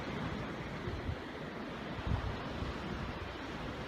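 Steady ocean surf in a sunrise meditation recording, a continuous broadband wash of waves with a couple of slightly louder surges, no voices.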